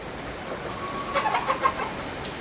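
Chickens give a short run of soft clucks over a steady background hiss, moderately close and fairly faint, with no talking.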